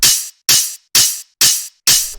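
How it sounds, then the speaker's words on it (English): Five evenly spaced hits of a bright, layered hi-hat sample in a Mau5trap-style techno track. Each hit is loud and crisp with a short decay, played alone with silence between them. "just kind of creating that big fat hi-hat in the middle"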